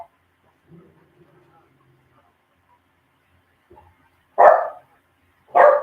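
Dogs bark twice near the end, two loud, close, sharp bursts about a second apart, following several seconds of near quiet with faint low murmuring.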